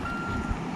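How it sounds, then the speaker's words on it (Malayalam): A single steady electronic tone from a truck's reversing alarm in the video game RV sounds briefly over a low rumble. "പക്ഷെ വണ്ടി അനങ്ങണില്ല റിവേഴ്സ് എടുത്തിട്ട്"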